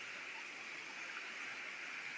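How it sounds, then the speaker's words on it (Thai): A fast-flowing stream swollen with rainy-season water, running over many rocks beside the streambank plants, gives a steady, broad rushing hiss that stays even and unbroken throughout, with no voices. "ก็จะมี น้ำไหลเชี่ยวหน่อยนะครับ"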